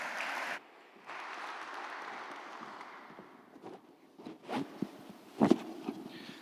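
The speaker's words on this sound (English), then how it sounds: "Ladies and gentlemen, can we give the panelists a round of applause" Summit audience applauding the panelists after a fossil fuels versus renewables debate, a steady wash of clapping from a seated crowd that thins out after a few seconds, followed by a few scattered sounds and bumps.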